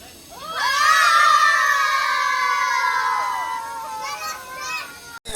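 A group of children at a birthday party shouting together in a loud, sustained cry that tapers off, followed by a few fainter shouts.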